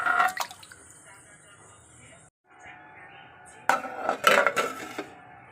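A pot of rice with small red potatoes is set on a gas stove, giving sharp metallic clanks and scrapes of cookware at close range, with a brief quiet gap before a cluster of louder knocks and rattles.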